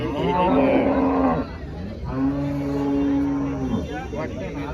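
Several cows, including HF and Jersey, low loudly and close by in long drawn-out moos, one after another, at a cattle market in Chalisgaon, over a busy background of livestock and faint voices.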